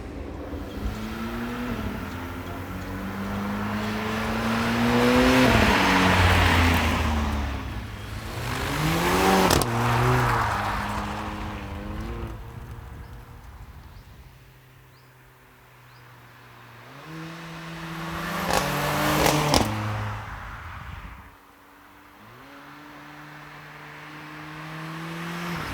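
Mercedes-AMG CLA 45 coupé with a 381 hp engine driving on a motorway in Hungary, its engine rising and falling through gear changes with a few louder revving surges over steady road and wind noise.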